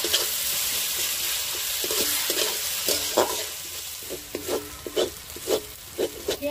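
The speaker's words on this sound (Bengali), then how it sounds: "দিয়ে দিচ্ছি আদা বাটা, দিয়ে ভালো করে ভেজে নেব" Ginger-garlic paste sizzling in a frying pan while cooking for Bengali aloo chop, a constant close hiss with repeated spatula scrapes and taps growing more frequent toward the end.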